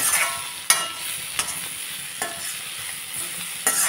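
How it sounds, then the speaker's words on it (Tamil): Long beans seasoned with pepper powder sizzle steadily in a hot pan, broken every second or so by sharp, loud scrapes and clatters of a spatula stirring them. "இனி இதை நல்லா வதக்கி விட்டுறலாம்"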